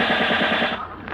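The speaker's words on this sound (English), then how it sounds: "Hey, those are bullets." Machine gun fire sound effect in an old radio comedy, a loud rapid burst of regular shots lasting about a second and then cutting off.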